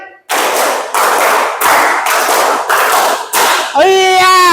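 Students in a classroom clap in unison during a call-and-response rhythm game, five loud group claps in steady succession, followed by a voice speaking at the end.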